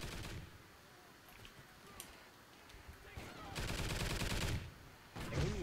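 Automated sentry gun in the video game Call of Duty: Ghosts opens up in quiet bursts of rapid gunfire, with a longer sustained volley toward the end amid faint game ambience.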